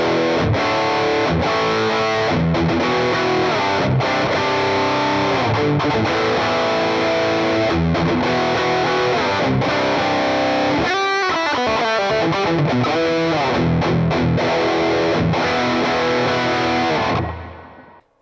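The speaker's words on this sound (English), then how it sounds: "As you can hear, there's a lot of noise coming from this pedal as it's a high gain pedal." Electric guitar played through a Boss MT-2 Metal Zone high-gain distortion pedal into delay and reverb, loud and dense, with sustained heavily saturated chords and a short choppy stretch before it cuts off.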